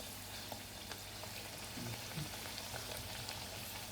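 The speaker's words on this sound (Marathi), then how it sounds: "वडो आपसूप फुगलो म्हणजे तेल आपला बरोबर तापलेला हा" Vadas made from maize flour fry in hot oil, producing a soft, even bubbling sizzle that stays faint and steady throughout.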